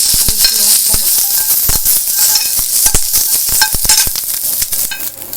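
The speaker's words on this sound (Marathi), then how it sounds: "थोडंसं तेल टाकायचं मिरची भाजताना।" Green chilies fry in a little oil in an Indian kitchen pan, giving a loud, steady sizzle broken by sharp scraping clicks of a spatula stirring throughout.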